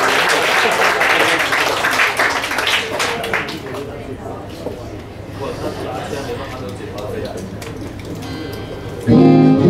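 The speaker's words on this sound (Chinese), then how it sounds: "给自己掌声鼓励一下吧" An audience at a concert event claps loudly at first, the applause thinning and fading over several seconds beneath a speaking voice, before a musical sound starts at the end.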